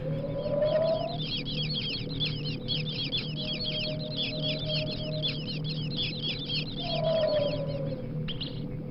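Small mice in the Bad Mojo video game chirp like birds, a rapid, continuous stream of high twittering over a low droning game background, with no talk.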